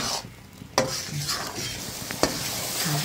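Spice paste with salt, turmeric and coriander sautéing in a pan for chicken curry: a constant close sizzle broken by two sharp spatula scrapes and softer stirring in between.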